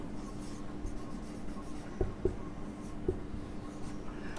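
Chalk or marker scratching out the ideal gas equation during a chemistry lecture, soft continuous strokes with a few sharper taps, quiet and close over faint room noise, no voice.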